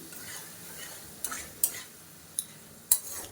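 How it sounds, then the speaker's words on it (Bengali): Mutton curry spices with turmeric and a splash of water are stir-fried in a pan, a soft low sizzle broken by four sharp metallic scrapes of a spoon against the pan. "এবার সবগুলোকে দিয়ে আমি ভালো করে কষিয়ে নিচ্ছি।"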